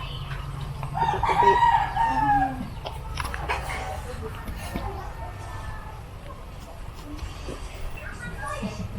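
Chickens cluck and a rooster crows once up close in a rural setting, with the call rising clearly near the start. People talk nearby throughout.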